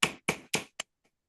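An ImpressArt planishing hammer with a slightly rounded face taps on metal: three sharp, evenly spaced strikes and a lighter fourth, each ringing briefly before near silence.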